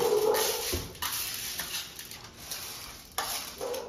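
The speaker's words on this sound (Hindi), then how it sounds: "बस इनको मिक्स कर दे चम्मच से" A spoon stirs popcorn mixed with turmeric and salt, giving soft scraping and rustling strokes close by, with a faint sizzle underneath and no talking.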